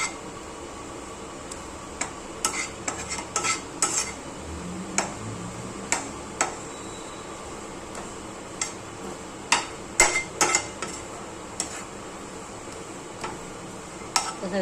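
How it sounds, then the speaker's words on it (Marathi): Gram flour being dry-roasted in a pan, with a spoon scraping and tapping against the metal in irregular clicks and knocks over a quiet kitchen background. "हे बेसन भाजून घेते मी पॅनमध्ये"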